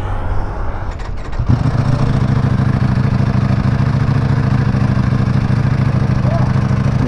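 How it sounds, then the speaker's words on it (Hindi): A Ducati motorcycle engine idles close by on a superbike group ride, a loud steady low rumble that settles in after a brief clattery start and holds evenly throughout. "तो डुकाटी का आवाज सुना जा रहा है भाई।"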